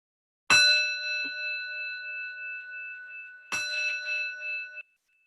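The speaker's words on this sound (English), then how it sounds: "when you can no longer hear the sound of the bell" Two clear bell strikes about three seconds apart, ending a mindfulness practice, each ringing out with a long, steady sustained tone in an otherwise quiet space.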